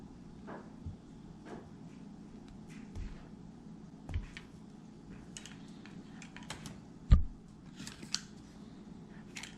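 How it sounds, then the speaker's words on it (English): Scissors cutting through wire insulation while building a bionic robot kit: a series of faint, sparse snips and clicks at close range, with one sharper cut standing out near the end in an otherwise quiet room. "just cut through the insulation with a pair of scissors"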